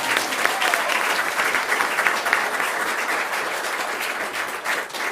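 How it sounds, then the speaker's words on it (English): A city council meeting audience applauds the hometown university cheer team, honored for its first NCAA national championship; steady, dense clapping fills the room at a constant level throughout. "As a city, we'll clap there."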